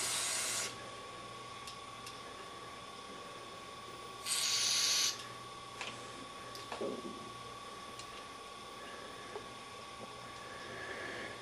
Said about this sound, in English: spray all that out, carburetor cleaner.